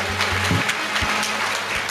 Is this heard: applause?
yes